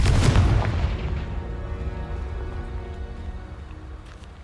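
A Confringo blasting spell explodes in Hogwarts Legacy, one loud booming blast at the start that rolls off into a long fading rumble and crackle.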